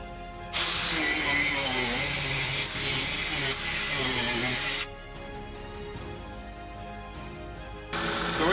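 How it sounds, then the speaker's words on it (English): An angle grinder with a fresh cutting blade bites into a steel crowbar in a workshop, a loud, harsh, hissing whine in two long bursts separated by a quieter idling hum. "the angle grinder or mini grinder set up with a fresh cutting blade"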